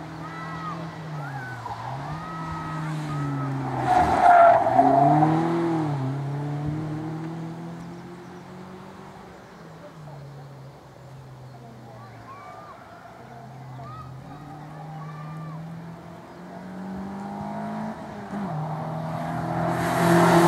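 An MG ZR160 race car at a sprint championship event, its engine note rising and falling as it accelerates and shifts, loud at first, then fading into the distance before another surge near the end.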